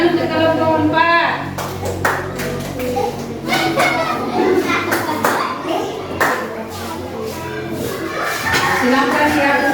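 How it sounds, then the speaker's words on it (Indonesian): Classroom applause for a group of pupils at an Indonesian primary school, with children's voices mixed through the clapping and teacher talk at the start, busy and fairly loud. "Tepuk tangan untuk kelompok 4"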